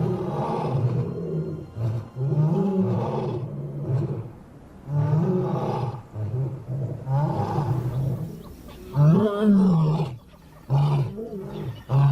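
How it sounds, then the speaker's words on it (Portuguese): Lions in the desert roar desperately, a series of deep, loud, drawn-out calls repeating every second or two over about twelve seconds, with no talk. "O poder de seus rugidos desesperados chega longe"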